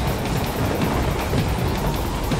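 A moving train in the action game Metal Gear Rising: Revengeance gives a continuous loud rumble with a faint rhythmic clatter running steadily throughout, close and unbroken, with no voices.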